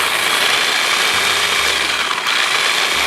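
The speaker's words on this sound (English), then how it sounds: "I am going to grind them up quick" Ritz crackers ground quickly in a food processor for stuffed mushrooms, a loud, steady whirring roar running continuously with the motor's low hum dipping and rising slightly.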